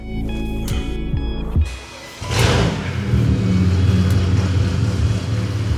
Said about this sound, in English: Hear the startup sound, give it a couple revs, and then we'll do the afters as well at the end